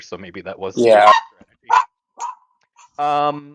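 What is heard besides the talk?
dog barking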